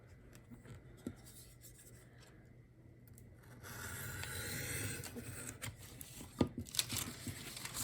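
Scissors cutting through a paper junk mail envelope, quiet scraping and rasping strokes that grow louder midway, with a few sharp snips near the end, close up and without talking.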